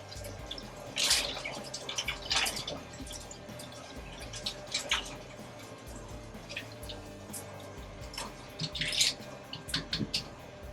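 Spinach is swirled around in a bowl of water, making faint, close sloshing with scattered soft drips and splashes at an uneven pace.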